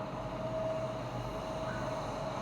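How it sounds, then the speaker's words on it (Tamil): A train passing, recorded on a Lava Blaze X 5G phone, heard as a steady low rumble and wash of rolling noise with a faint tonal hum, continuous and moderately distant. "இது வந்து ஒரு ட்ரெயின் ஒன்று போகும்"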